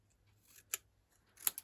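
Scissors trimming a piece of card for a 3D display card, giving two short crisp snips about three-quarters of a second apart, then a quick cluster of cuts, close and fairly quiet with no talk.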